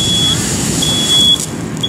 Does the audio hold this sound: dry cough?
no